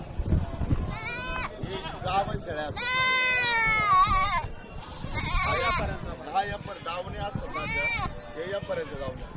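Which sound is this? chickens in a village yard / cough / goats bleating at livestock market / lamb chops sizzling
goats bleating at livestock market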